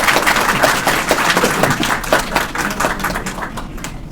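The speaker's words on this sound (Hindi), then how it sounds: "इसलिए तालियों से स्वागत किया जाए।" A crowd applauds to welcome the elders at the swearing-in ceremony of the Meerut District Bar Association, with dense, steady clapping from many hands that continues throughout and fades slightly at the end.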